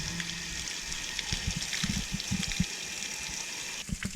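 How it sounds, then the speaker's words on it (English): Water spurting and gushing from an RV hot water tank's opened pressure release valve, with irregular splashing bursts over a continuous hiss, moderately close. "Once I pull that, this will really start going and kicking water out."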